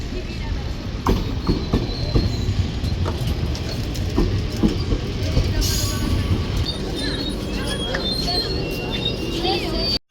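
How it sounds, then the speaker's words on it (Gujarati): A return metro train arrives at a station in Tunisia, rumbling in with rolling wheel clatter, sharp metallic clanks and brief squeals, voices murmuring faintly nearby. "મોનેસ્ટરથી સોસેજ જવાની પાછી રિટર્ન ટ્રેન આવી ગઈ છે"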